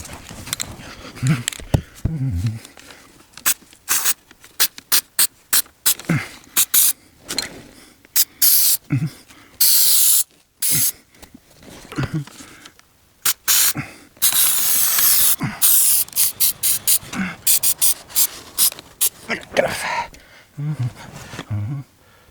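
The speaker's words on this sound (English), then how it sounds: "this actually has such a powerful spray that it blows this around" A can of Permatex Heavy Duty Automotive Headliner Adhesive hisses in many short, rapid bursts with a few longer sprays, close and loud, with brief gaps between, spraying car headliner fabric.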